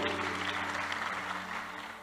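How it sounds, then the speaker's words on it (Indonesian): A crowd applauds steadily, a dense wash of many hands clapping that tapers slightly toward the end. "Tepuk tangan yang paling meriah buat Tuhan."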